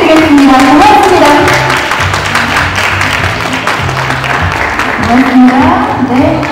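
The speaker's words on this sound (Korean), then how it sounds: "여러분 큰 박수 부탁드리겠습니다." Audience applause at a hanbok appreciation award ceremony, steady clapping running throughout while a voice and some music carry on over it.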